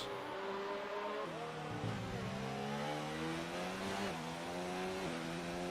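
A race car engine in an Xbox racing video game screams steadily at high revs, pitch dipping and climbing through gear changes and throttle lifts, loud and continuous throughout.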